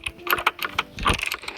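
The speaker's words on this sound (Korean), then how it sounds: "키보드 타워 너무 소리가 좋아요." Rapid typing on a computer keyboard in the Keyboard Tower game, with close, crisp clacks arriving in irregular quick bursts and no voices over them.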